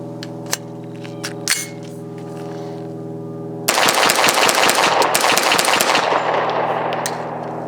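A CMMG Guard 45 pistol fires Federal HST hollow point rounds in a fast, loud string of about a dozen shots, preceded by a couple of isolated pops and a steady background hum.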